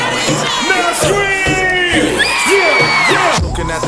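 Concert crowd cheering and screaming at a hip-hop show, loud close whoops and shrill yells rising and falling in overlapping bursts, a dense wall of excited voices.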